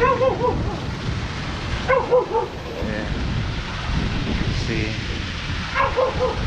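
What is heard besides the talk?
dog barking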